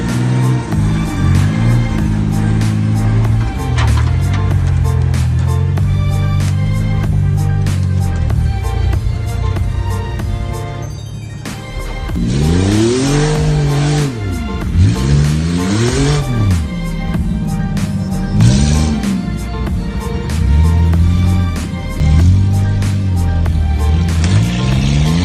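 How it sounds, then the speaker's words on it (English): A Ford Ranger pickup truck's engine cranks and revs loudly during a jump start, with whining pitch sweeps that rise and fall in repeated bursts and a brief dip in between. "So we tried to jump start Aaron's Ranger."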